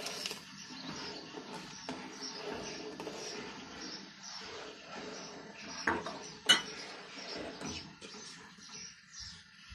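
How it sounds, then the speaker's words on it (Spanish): Rice pudding simmering with sugar being stirred in a pot, giving a steady run of soft scraping and clinking of a utensil against the pot, with a couple of sharper knocks partway through. "Añadimos una taza de azúcar y removemos."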